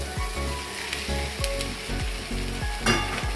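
Risotto rice and onions frying in a pan while being stirred, a steady close sizzle broken by repeated scraping strokes of the spoon, with no voices.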